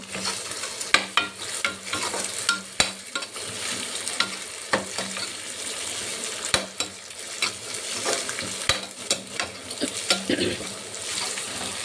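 Two eggs frying in a pan with turmeric and chili powder, a steady sizzle broken by sharp spatula clicks and scrapes against the pan, close and moderately loud, with no speech.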